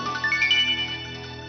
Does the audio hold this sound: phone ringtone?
yes